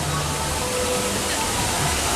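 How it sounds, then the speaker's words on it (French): Water cascades down the rockwork theming of a Krampus-themed ride at Nigloland amusement park, a steady broadband rush of falling water filling the whole moment without pause, moderately loud and close. "Avec ses cascades, ça donne envie de plonger."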